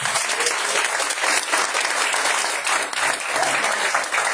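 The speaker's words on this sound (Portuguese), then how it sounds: "Dá um salve de palmas para Jesus." A church congregation claps for Jesus, dense, loud applause sustained throughout with little variation.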